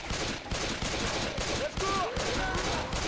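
Gunfire rattles steadily through a Left 4 Dead 2 zombie-shooter match in a swamp level. Rapid shots run almost nonstop and loud, with brief synthetic tones underneath.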